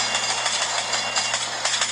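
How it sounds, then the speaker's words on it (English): A little freight train rolls past at a railroad crossing in a mobile video game, giving a steady, even rumble with a faint rattling texture that holds at a constant level for the whole stretch. "Little freight train."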